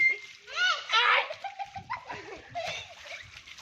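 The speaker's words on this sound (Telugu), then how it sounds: "మన ఇంట్లో చీ కాళ్ళ నీళ్ళు మొఖాల మీద పడుతున్నాయి" Children splash water with their feet at home in a playful, messy game, giving repeated wet slaps and splatters amid their excited voices and giggles.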